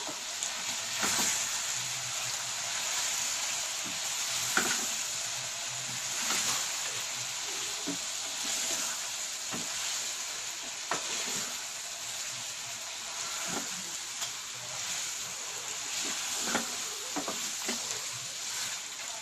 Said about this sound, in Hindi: जब हमारा चिकन अच्छी तरह भुन जाएगा ना थोड़ा सा